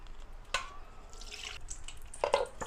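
Water saved from boiling onion and tomato is poured into a Mangalore-style fish curry, making faint, sparse splashes and drips in a quiet room with no talking.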